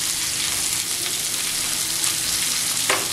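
Karli fish sizzles steadily in a small amount of oil on a hot tawa, a dense, even crackle that stays close and constant throughout with no talking.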